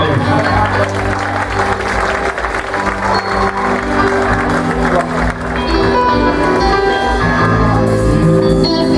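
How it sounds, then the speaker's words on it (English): Audience applause for a featured vocalist at a live music show, a steady dense clapping that fills the whole stretch with crowd noise and a voice over it, with instruments starting up toward the end. "Give him a nice round of applause, please."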